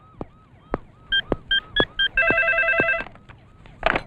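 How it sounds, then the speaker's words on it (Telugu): A telephone rings in a comedy film scene: short electronic ring bursts repeat, then one sustained warbling tone, loud and close, with a few brief sounds around them. "మీకు ఫోన్"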